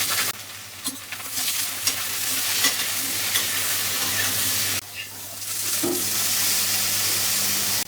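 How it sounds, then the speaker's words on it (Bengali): Okra fries in mustard oil in a hot kadai with a steady close sizzle and frequent stirring scrapes; there is a brief dip near the middle before the sizzle returns. "হালকা করে ভেন্ডিগুলো ভেজে নেব"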